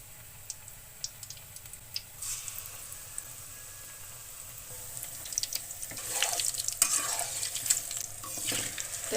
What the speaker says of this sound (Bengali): তো আমার ঢেঁড়সের চপটা ভাজা হয়ে গেছে, এখন আমি তুলে নিব।